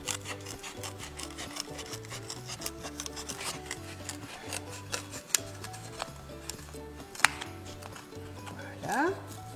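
Scissors snip a circle out of a small piece of plastic tray, the close, repeated cutting and rubbing sounds fairly quiet, with a bit of crinkling near the end.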